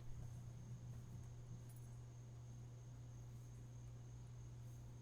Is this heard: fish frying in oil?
no